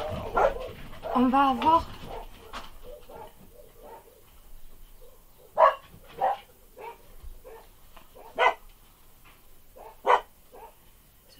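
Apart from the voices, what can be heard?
dogs barking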